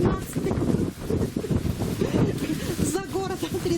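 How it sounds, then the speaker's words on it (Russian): Cold, strong wind blows outdoors at a countryside spot near Bishkek, Kyrgyzstan, rumbling against the microphone while someone talks over it at moderate loudness. "Ветрища, мерзнем."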